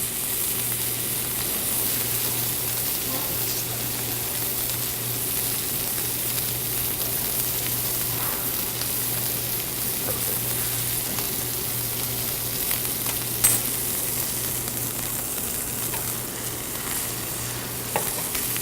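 Steak searing in a very hot pan, a constant loud crackling sizzle of fat and juices with occasional sharper pops, steady and close, with a low hum beneath.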